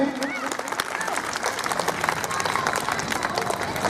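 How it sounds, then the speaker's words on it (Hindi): School function audience clapping to welcome the chief director of Vasundhara Public School, a lively burst of close hand claps with crowd murmur and voices mixed in. "कृपया इनका तालियों से स्वागत करें।"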